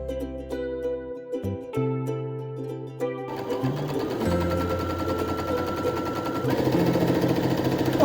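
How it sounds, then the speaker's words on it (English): Sewing machine stitching the bottom edges of a halter-neck tie dress, a steady mechanical run that starts and stops in short bursts before settling into longer continuous stitching, close and fairly loud. "Now we sew the bottom edges together."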